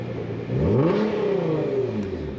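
A car engine revs to test speed during an exhaust noise test, its pitch climbing then holding at a loud, steady high whine before easing slightly, close by with no voices.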